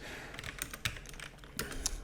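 Fingers type on a computer keyboard while searching a property appraiser website: quick, irregular clicks and taps, close and fairly quiet, with no talking.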